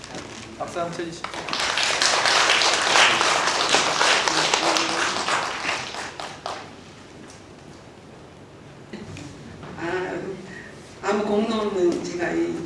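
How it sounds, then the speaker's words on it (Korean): Church congregation clapping together during a Sunday worship service, a dense sustained burst of applause lasting several seconds before a voice resumes speaking. "박수 한번 쳐주시죠."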